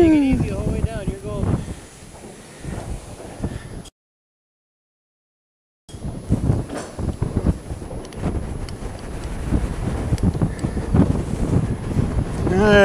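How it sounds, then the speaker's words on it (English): Gusty wind buffets the microphone with a low rumble during wind turbine evacuation training while people talk, broken by a brief stretch of silence. "Picked a nice windy day to do this."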